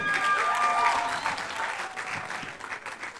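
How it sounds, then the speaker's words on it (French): An audience at a Gabonese beauty pageant, Miss Rondes et jolies, breaks into dense, steady applause for contestant number 7, full and sustained before easing slightly toward the end. "Elle a 23 ans, sous vos applaudissements"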